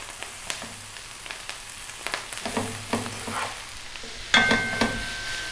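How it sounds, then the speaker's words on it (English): Kale sizzling and crackling in a hot pan as it is stir-fried, with scraping and clattering as it is stirred around, a few sharper clanks near the end. "I'll be stir frying this around."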